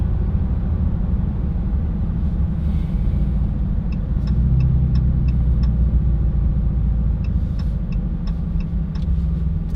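A 2022 Dodge Charger Hellcat wide body, heard from inside, rumbles loud and steady as it accelerates gently. The deep engine drone holds throughout, with faint ticking clicks over it.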